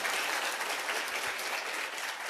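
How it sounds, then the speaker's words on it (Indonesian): An audience at a Tiens business seminar breaks into steady, dense applause, loud and continuous with no break. "Tepuk tangan dulu buat Anda deh"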